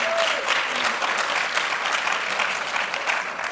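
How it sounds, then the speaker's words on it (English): Sustained, dense applause from a conference audience welcoming a guest speaker, a Lowe's vice president, steady and fairly loud throughout with a faint crowd murmur underneath. "So give her a big round of applause."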